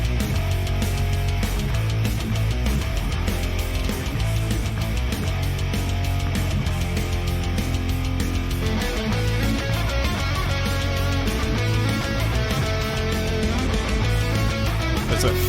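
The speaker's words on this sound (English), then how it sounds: "It is an instrumental metal guitar track." An instrumental metal track with thick, dense distorted guitars and driving drums, playing loud and continuous throughout with no vocals.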